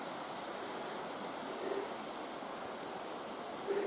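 The River Barle flows in the valley below, a soft, steady broadband rush of water heard from a distance, faint and unbroken for the whole stretch.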